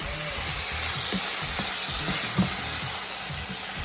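Cooked meat being stirred into tomato sauce in a pan, a soft steady sizzle with a series of light spoon scrapes and clicks, close and without speech.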